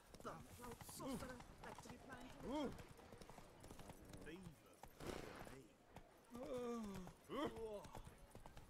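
Hooves of Roach, Geralt's horse in The Witcher 3, clip-clopping at a steady gait, moderately loud, under frequent talking from a player throughout.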